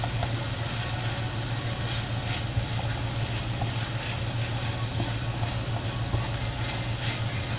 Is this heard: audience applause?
no